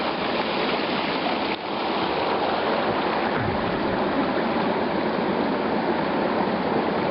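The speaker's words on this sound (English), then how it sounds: "It's a gorgeous creek." A creek flows steadily in a continuous, even rush of water, close and unbroken, heard on a backpacking trip with no voices over it.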